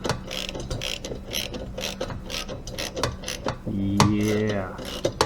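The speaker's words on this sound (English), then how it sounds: "Time to tighten this all down." Ratchet wrench tightening bolts while restoring a rusted 4, a close series of quick metallic clicks in bursts, ending with a louder stretch of heavier mechanical noise.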